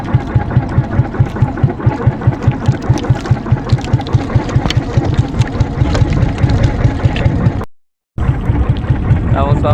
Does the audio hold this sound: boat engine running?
yes